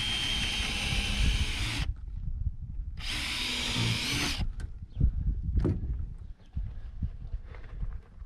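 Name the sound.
power drill drilling at an angle into roof timber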